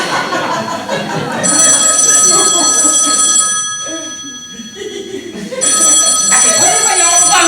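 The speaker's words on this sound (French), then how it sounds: "Quelqu'un appelle Madame au téléphone." An old telephone bell rings in two long bursts separated by a pause, bright and insistent, over a noisy room with voices talking underneath.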